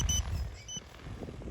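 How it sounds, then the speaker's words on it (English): A quiet, high-pitched low-tank warning from a spray drone beeps in short repeated tones over low rumbling motor noise. "the alarm you can hear is not actually a battery alarm. It's actually the low tank warning."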